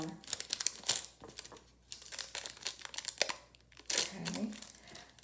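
Thin nail foil is crinkled and torn close up in a string of crisp, irregular rustling bursts, with some quiet talking mixed in.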